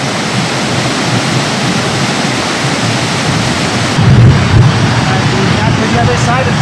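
Waterfall on Chilnualna Creek in Yosemite National Park, a steady broadband roar of falling water that runs unbroken and fairly loud from start to finish, swelling a little toward the end.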